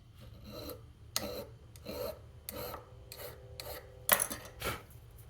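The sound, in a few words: hand file filing knife handle pins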